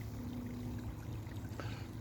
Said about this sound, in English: you can probably hear the wonderful sound here. It's the water that's coming down right from the top of the hill